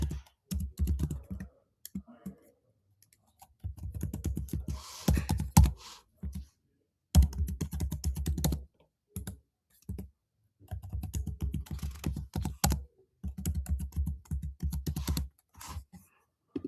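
Computer keyboard typing while filling in sign-up details on a website: close, rapid clicking in bursts of a second or two, separated by short pauses.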